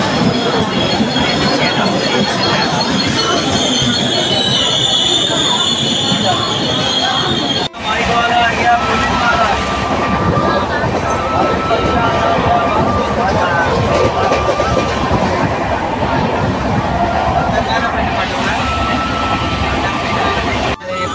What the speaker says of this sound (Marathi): आता ट्रेन आलेली आहे.